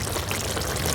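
Water poured steadily into soaking rice in a pot for a vegetable biryani cooked over a wood fire, a continuous close splashing rush with no talk.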